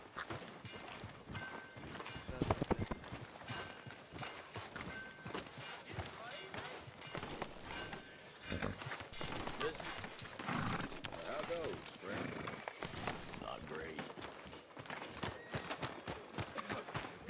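In Red Dead Redemption 2, a horse's hooves clip-clop in a steady rhythm while characters talk over them throughout.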